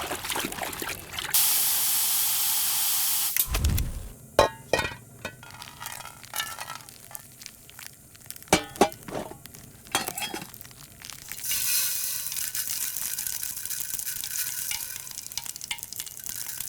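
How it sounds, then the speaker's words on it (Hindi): Spices tempering in hot oil in a home kitchen give a loud, steady sizzle and hiss that flares up sharply, broken by stirring clatter and knocks, then settle into a softer continuous fry. "सुबह सुबह तड़का लगा रही हो आप।"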